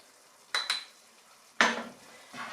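Flour being stirred into a chicken and leek pie sauce in a pan, a few sharp scraping spoon strokes against the metal over a faint soft sizzle, with short quiet gaps between.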